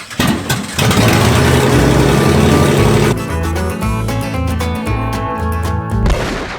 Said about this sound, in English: Man, I can hear the rattles more than the motor.